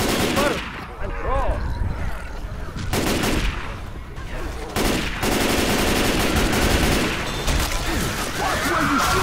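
Loud rapid gunfire bursts and automatic weapon fire in the video game Left 4 Dead 2 on a custom RMS Titanic campaign, close and continuous with brief pauses, under players' shouted voices.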